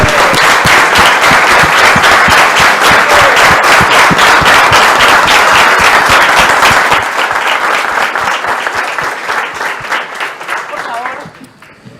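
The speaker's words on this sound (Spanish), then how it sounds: "Quiero pedir un fuerte aplauso" Dense, loud applause from a studio audience on an Argentine television show fills the room steadily, then thins and fades toward the end, with a brief spoken word over it.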